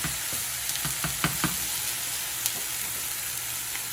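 Indonesian nasi goreng fries in a hot pan with a steady hiss and crackle, broken by a few sharp clicks of stirring, with no talking.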